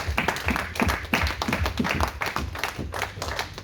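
Church congregation clapping and applauding together, a dense steady patter of many hands close by, rising in bursts throughout with some voices mixed in beneath.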